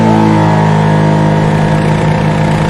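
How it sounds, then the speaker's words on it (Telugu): A police motorcycle engine runs with a loud, steady, droning hum, nearby and without speech, as a rider makes an escape. "అతను పోలీస్ బైక్ మీద ఎస్కేప్ అవుతున్నాడు"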